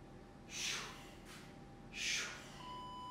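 Two heavy, breathy exhales sound close and fairly quiet during a muscle-strengthening workout, each a rushing push of air with a gap between them.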